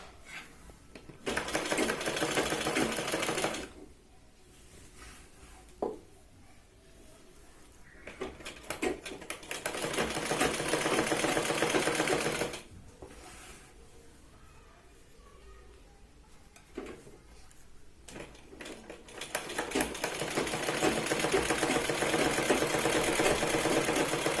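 A sewing machine stitches around the neckline of a Punjabi top in steady mechanical bursts, each run stopping for a short pause before the needle starts again.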